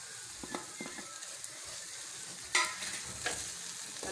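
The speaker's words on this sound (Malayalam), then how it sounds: "നല്ല മിക്സ് ചെയ്യാം." Chicken chukka masala fries in a pan with a soft, steady sizzle while a utensil stirs it in a few close scraping strokes, one sharper clink midway; no talk.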